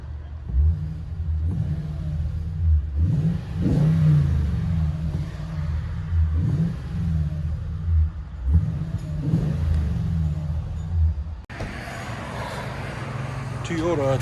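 Inside the cab of a 2015 Toyota Tundra 5.7 V8 fitted with true dual Magnaflow exhaust, the engine rumbles through a series of rhythmic revs rising and falling, followed by a brief rush of noise near the end.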